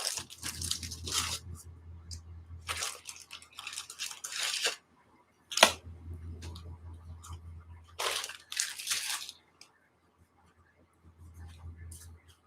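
A tarot card deck is shuffled in several short riffling bursts separated by pauses, close and fairly clear, with no talk over it.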